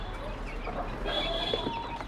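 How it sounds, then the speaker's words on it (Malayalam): Native country chickens on a poultry farm cluck softly and intermittently over a constant background noise, with a few brief, higher calls mixed in. "തനി നാടൻ കോഴികൾ."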